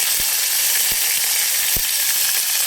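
Onion and tomato sautéing in hot oil with bay leaf, a steady broadband sizzle filling the clip, punctuated by a few soft low clicks of a spoon or pan, with no one speaking.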